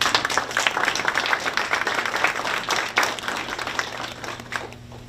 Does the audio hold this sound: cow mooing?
no